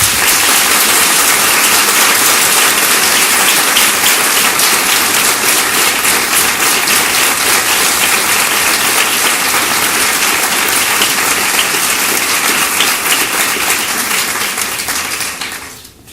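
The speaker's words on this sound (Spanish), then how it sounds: "Quiero un aplauso muy fuerte para mí." At a book presentation, an audience gives loud, dense applause that holds steady for about fifteen seconds and then quickly tapers off at the end.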